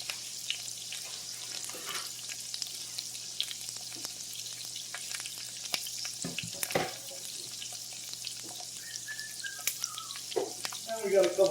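Salt and pepper shrimp fry in hot oil with a faint, steady sizzle, broken by a few clinks of utensils and a brief bright rising tone near the end. The sound is quiet and no one speaks.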